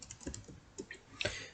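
Keystrokes on a computer keyboard, a quick irregular run of clicks close by, with a short denser burst near the end; no talking.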